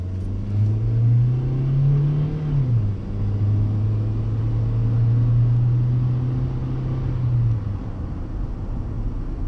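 Toyota Corolla with freshly overhauled brake calipers driving on back roads, its engine droning steadily from inside the cabin and briefly rising in pitch as it accelerates before settling back to a steady hum.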